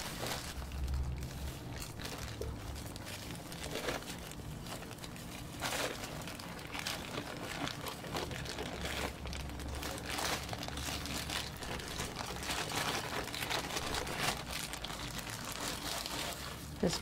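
Potting soil being poured from plastic bags during a houseplant repot of a Monstera deliciosa and Golden pothos: soft continuous crinkling and rustling of plastic with pattering soil, close and fairly quiet, no talk.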